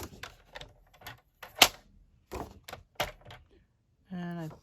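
Paper for a journal is cut in a string of sharp slicing and thumping strokes close by, with scattered quiet clicks between them, followed by a brief voice at the end.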